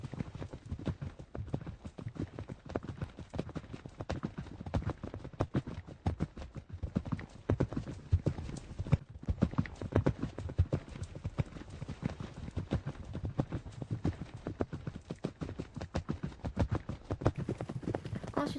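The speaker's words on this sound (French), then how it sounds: "Donc les filles commencent gentiment à marcher leurs chevaux." Several horses walking at a riding competition, hooves clip-clopping in a steady, dense rhythm at close range, with no talk over it.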